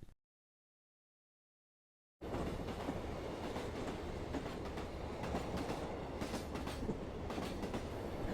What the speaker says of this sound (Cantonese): 港鐵